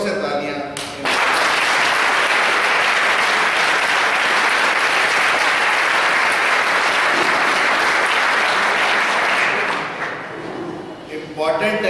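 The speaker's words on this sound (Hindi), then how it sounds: "आप जोर से तालियां।" A school audience applauds steadily for about ten seconds, loud, dense and continuous, filling the hall before fading at the end.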